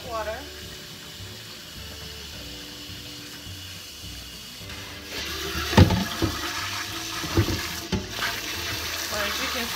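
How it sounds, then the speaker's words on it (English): Hot water runs from a kitchen tap into a pot with burnt-on food, a steady splashing flow rising partway through with clanks of the pot, under a person talking. "I'm going to run some hot water."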